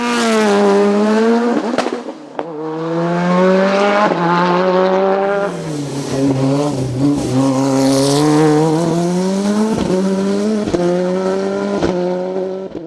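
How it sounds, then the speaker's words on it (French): A Simca CG Turbo race car climbs the Col St-Pierre hill-climb course in group FC. Its engine wails loud and close, revving high and dropping through gear changes with sharp pops between shifts. "Christophe Pensignon s'adjuge la victoire dans le groupe FC au volant de son Simca CG Turbo"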